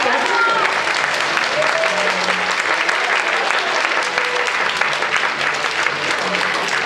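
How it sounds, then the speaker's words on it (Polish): A theatre audience applauds child performers of a movement theatre show, sustained dense clapping that stays loud and even from start to finish, with faint voices mixed into the crowd noise. "Brawa dla nich, dla najlepszych artystów"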